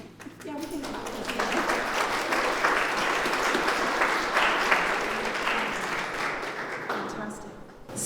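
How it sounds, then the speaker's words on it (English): An audience applauds, the clapping swelling quickly and then fading out over several seconds, with voices mixed in. "we can clap"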